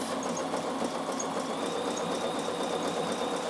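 A Bernina sewing machine stitches with metallic thread through a big-eye needle, running in a steady, rapid mechanical whir with fine rhythmic ticking, close and continuous, with no talking.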